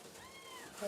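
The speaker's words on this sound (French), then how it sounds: "C'est un chat que j'ai trouvé dans le fossé." A cat found in a ditch gives one drawn-out, wavering meow at close range, ending in a brief burst of other noise.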